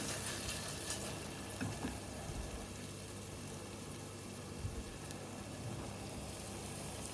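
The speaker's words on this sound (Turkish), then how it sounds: "Bir yemek kaşığı kadar da e, biber salçası ilave ediyorum. Tekrar kavuruyorum." Pepper paste being sautéed in a pan with sucuk for a bean stew, a faint, steady close sizzle and crackle with a few soft stirring scrapes, no voices.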